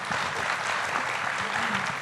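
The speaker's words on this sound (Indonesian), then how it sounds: "Boleh tepuk tangannya. Para hadirin." An audience at a heated education debate breaks into brief, loud, dense applause, steady hand clapping from a full crowd.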